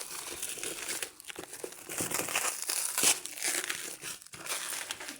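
Plastic packaging crinkles and tears continuously as a BlueForce Runner 60% keyboard with blue switches is unboxed, loud and close with busy rustling bursts and a few brief pauses, no talking.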